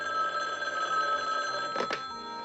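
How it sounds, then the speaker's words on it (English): A telephone ringing indoors, a steady electronic bell tone with a brief burst of clatter near the end, moderately loud and close with no one speaking. "I'm just one of those people who has to answer the phone."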